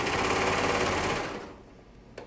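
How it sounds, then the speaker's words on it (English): A sewing machine runs steadily while stitching a Grace dress, a close, fast mechanical whir that slows and fades to stop about halfway, followed by a small click. "this machine is quite a bit different because I've got to look at the bottom while I'm sewing"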